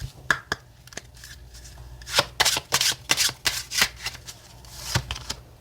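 Oracle tarot cards shuffled by hand, a close, quiet series of crisp riffling slaps and flicks in irregular bursts, denser in the middle, with a low hum underneath and no talking.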